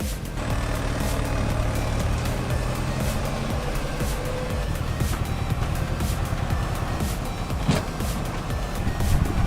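An old Belarus diesel tractor runs steadily close by, its engine a continuous low rumble with a rough, even exhaust note throughout.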